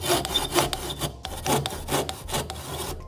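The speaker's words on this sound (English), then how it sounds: "I'm just going to readjust that back up a wee bit higher so I can now cut down to that final waste point." A hand saw cuts through an MDF board clamped in a vise, with close, loud rhythmic rasping strokes, about six back-and-forth passes in quick succession and no talking.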